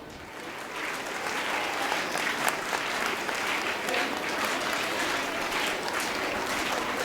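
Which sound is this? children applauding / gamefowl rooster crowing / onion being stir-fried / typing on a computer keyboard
children applauding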